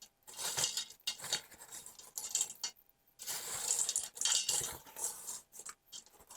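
Chocolate chips and Oreo pieces gently folded into cookie dough in a bowl, with soft repeated scraping, clinking and patting of a utensil against the bowl in short bursts separated by brief pauses.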